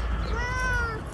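A cat at a long-term campsite gives one clear, drawn-out meow close by, rising and falling over about a second against faint outdoor background noise.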